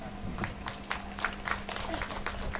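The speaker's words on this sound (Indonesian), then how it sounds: "tepuk tangan." An audience at a small-business festival in Bekasi gives scattered, moderate applause for an invited city council member, individual claps standing out over a low room hum.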